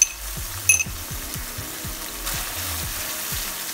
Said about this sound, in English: what I'm gonna do is add the soy, hoisin, and oyster sauce mix